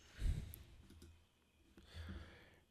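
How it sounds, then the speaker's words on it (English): Two soft, close mouse clicks on a computer commit button, spaced about two seconds apart, quiet against a low room hush. "I'm going to click commit"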